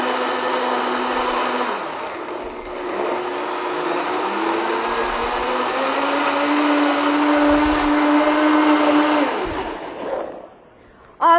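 A countertop blender runs steadily and loudly at a booth of a living-foods expo, its motor whine holding for about nine seconds, then shifting pitch and cutting off near the end.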